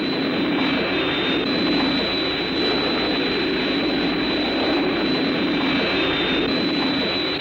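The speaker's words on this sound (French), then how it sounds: "Ah, j'entends un moteur. C'est sûrement les sauveteurs." Aircraft engine droning steadily in the Thunderbirds TV series, a loud continuous roar with a high whining tone, holding level throughout with no speech.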